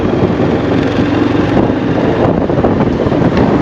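Strong cold wind buffets the microphone in a steady, loud roar at an outdoor local market, with no clear voices above it.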